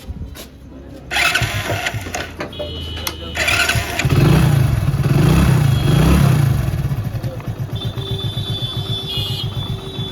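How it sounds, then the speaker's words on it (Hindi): A Hero Splendor motorcycle engine idles after a piston and cylinder rebuild, settling into a steady, fairly loud rhythmic putter close by, with brief talk near the start. "तो इंजन की आवाज़ गाइस बहुत ही बेहतरीन है।"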